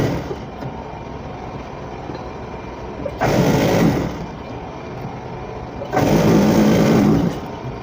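A sewing machine stitches Isiagu fabric in two bursts, each running steadily for about a second or so before stopping, with quiet room tone in between.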